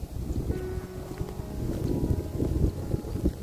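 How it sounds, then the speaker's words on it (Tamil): Wind blowing across an open black gram field at harvest time on a hot, sunny day, a steady rumbling gust noise buffeting the microphone close up, rising and falling continuously with no voices. "காற்று அடிக்கிறதுனால"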